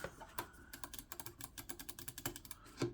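A lightweight Redragon Mirage RGB gaming mouse gives a rapid run of crisp, light clicks, close up but fairly faint, with no talking over them.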